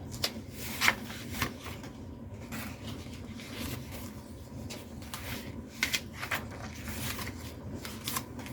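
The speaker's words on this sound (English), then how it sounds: "There's just a little flip out of a couple" Paper cards in a handmade Christmas junk journal flipped briefly, giving a few soft papery rustles and light flicks close by, with a quiet steady background and no talking.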